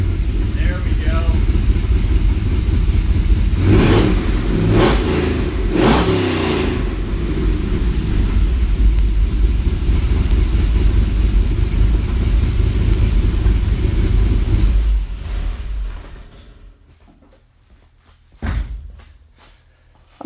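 A Mazda Miata race car run without catalytic converters, its engine loud and close with steady running and revving for about fifteen seconds, then cutting off to near silence before one short burst.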